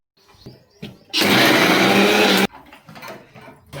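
A kitchen mixer grinder blitzes green chili and coriander into paste in one loud continuous whir of about a second and a half, with brief faint chatter before and after.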